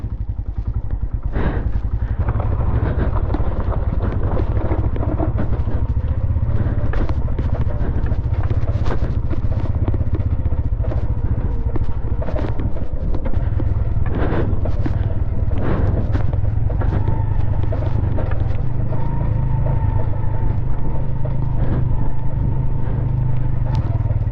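A motorcycle that has fallen over is kick-started at full throttle, its engine roaring loudly and continuously with rough rumbling and clattering, close by throughout.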